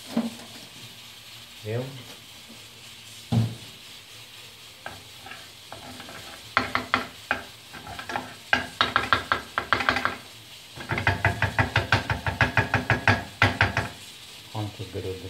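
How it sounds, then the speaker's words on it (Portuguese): Onion frying in butter in a pan, with a steady sizzle under repeated rhythmic scraping and stirring strokes of a utensil against the pan, clustered in fast bursts; a voice speaks briefly. "Vou fritar a cebola na manteiga"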